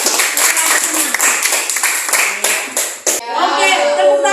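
Students in a classroom lesson clap together for about three seconds, a brisk, close burst of many hands, before a voice begins talking.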